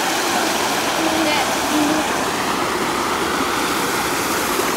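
A waterfall pours in a steady, loud, unbroken rush, with children and an adult talking faintly beneath the flow.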